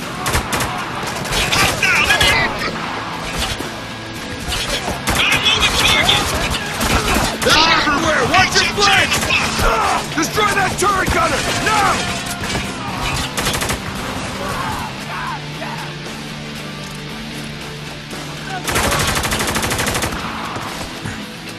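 Loud bursts of automatic gunfire and rapid shots fill a battle in the shooter video game Spec Ops: The Line, with shouted voices breaking in between the volleys.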